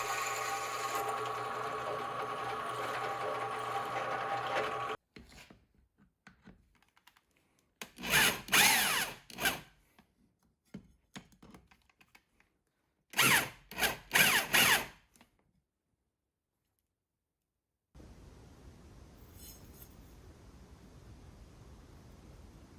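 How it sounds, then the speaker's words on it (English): A power drill whines in two separate bursts, drilling a pin hole through a steel knife blade, framed by steady machine hum before and a faint hiss afterward. "I then mark out and drill my hole for the pin"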